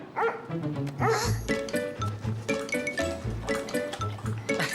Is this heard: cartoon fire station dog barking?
yes